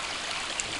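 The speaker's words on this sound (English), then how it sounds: "We got some running water coming over this dam." Running water pours steadily over a beaver dam swollen by snowmelt and rain, a continuous close rushing wash with no voices.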